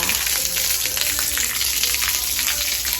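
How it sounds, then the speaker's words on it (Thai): Fresh water pouring into a tank of young snakehead fry, a steady, close hiss of splashing and gushing water running continuously without pause. "แล้วก็เปิดน้ำใหม่ใส่ไปเลยค่ะ"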